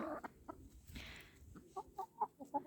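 A rooster and a few hens cluck close by in short, uneven bursts, with a brief soft rustle in the middle of the farmyard sounds. No voices are heard.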